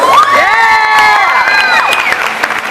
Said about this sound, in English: Lots of people cheering for you out there, Jessica.